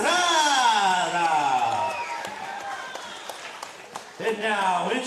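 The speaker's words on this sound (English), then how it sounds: "make some noise and a round of applause for Juan Estrada." At a boxing event, a crowd cheers and applauds as a boxer is introduced from the red corner. A sustained whooping vocal rise sits over scattered clapping, dipping in the middle and then swelling again at the end.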